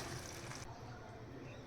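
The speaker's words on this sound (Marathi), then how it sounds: "इथे थोडंसं पाणी ॲड करणार आहोत." Water is poured into a cooking pot of flat val beans in coconut masala, a soft brief gushing splash that quiets after a moment, faint and close.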